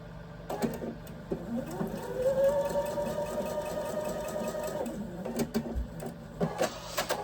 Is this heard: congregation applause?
no